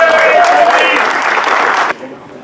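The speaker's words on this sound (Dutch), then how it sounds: "Ik wil graag voor Tom een hartelijk applaus voor dit mooie gebouw." An audience gathered at a guild's herring event claps warmly for a new building, a steady wash of applause lasting about two seconds before cutting off abruptly, with faint voices underneath.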